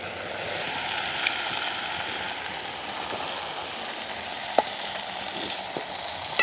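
Steady, dense sizzling of cassava frying in hot oil, with a few faint clinks and pops over the constant crackle.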